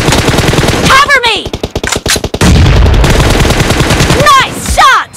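Rapid bursts of automatic gunfire from a shooter video game, loud close volleys of sharp repeated shots with brief gaps, plus whooshing effects and a voice speaking briefly.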